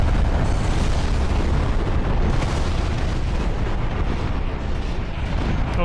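The Sol Dios cannon blows apart in Armored Core 4, a loud, sustained explosive roar with dense rumbling bursts that carries on without letup for several seconds, with no talk.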